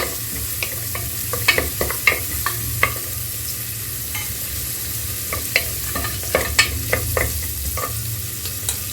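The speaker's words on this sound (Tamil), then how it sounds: "இந்த வெங்காயத்தில் போட்டுடலாம் போட்டு சும்மா வதக்கினா போகிறோம்" Onions sizzle steadily in a hot pan while a utensil clinks and scrapes intermittently as they're stirred, close up with no talking.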